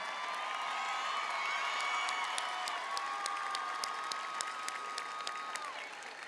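Sustained applause from a large graduation audience honoring scholars at a 2024 high school ceremony, steady and dense across the whole stretch, with a few sharper claps and faint cheers standing out near the end.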